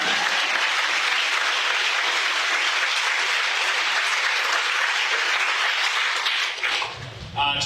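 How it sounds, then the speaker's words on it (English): A large audience gives sustained, dense applause at RVU-MCOM's inaugural medical school white coat ceremony in 2023. The clapping stays loud and steady, then thins out and fades in the final second. "that is an applause"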